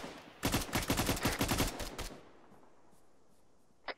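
Rapid burst of automatic gunfire in the military shooter game Arma 3, about a dozen sharp close shots in quick succession, then quiet with one more distant crack near the end.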